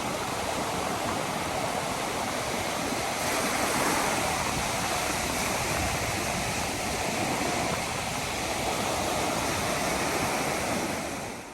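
Ocean surf breaks heavily at Springmaid Pier, a continuous loud wash of whitewater with no voices.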